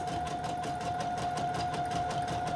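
A sewing machine zigzag-stitches fabric and lace, running in a fast, even mechanical whir with a steady motor hum, close and continuous throughout.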